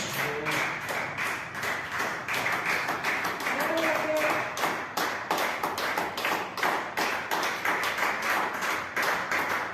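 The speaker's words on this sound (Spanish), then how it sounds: "Denle una ofrenda de palmas a Dios." A church congregation claps together in a brisk, regular rhythm of sharp hand claps that keeps a steady beat for about ten seconds, with voices heard over the clapping.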